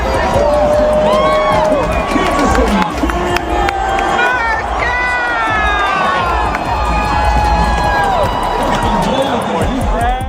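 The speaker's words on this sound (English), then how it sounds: "Here they are, cheering together at an NFL playoff game." Loud, dense crowd roar with cheering and whoops at an NFL playoff football game, voices blending into a continuous noisy din.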